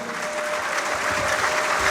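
Steady, dense clapping from an audience at a university speaker series, building slightly louder toward the end with no talk over it.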